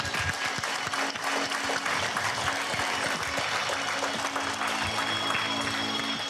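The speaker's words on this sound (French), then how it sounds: "Vous allez applaudir Gina" An outdoor audience at a pétanque festival final in Saint-Juéry applauds steadily, many hands clapping in a dense, continuous patter with a low hum beneath, no talking.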